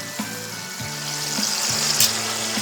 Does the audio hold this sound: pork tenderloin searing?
yes